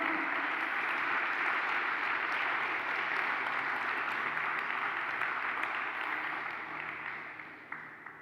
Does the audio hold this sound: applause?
yes